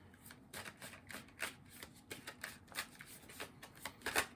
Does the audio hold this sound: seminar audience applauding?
no